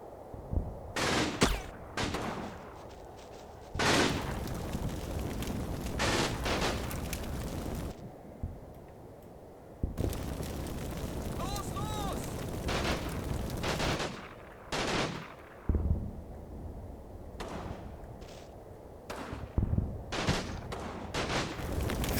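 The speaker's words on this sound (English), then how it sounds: "Somebody's shooting" Bursts of gunfire and explosions from the WWII tactics game Combat Mission Final Blitzkrieg ring out in scattered volleys with quiet gaps between them, some loud and close, others more distant.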